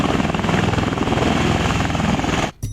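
An MV-22 Osprey tiltrotor in helicopter mode beats loudly and close, its rotors giving a rapid, rhythmic chopping throb that holds steady before cutting off abruptly near the end.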